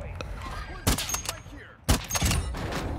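Gunfire in the Warzone battle royale game: two loud bursts of shots crack out about a second apart, each trailing into a short rattle, with quiet game ambience between them.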